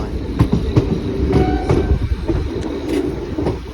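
Steady rumble of a train rolling into a railway station near Rajkot, with faint rhythmic clicks and squeaks, loud and close throughout, with no talking.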